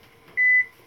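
A kitchen timer gives a single clear electronic beep, short and loud, close by over a quiet room while eggs are steamed.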